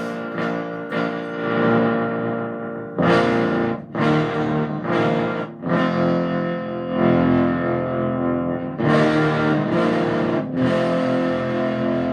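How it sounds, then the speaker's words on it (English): Heavily distorted electric guitar through a 1959 Ampex 2010 amp plays chords in bursts separated by short pauses, with a gritty, saturated amp tone and some echo. "Still some ugly distortion"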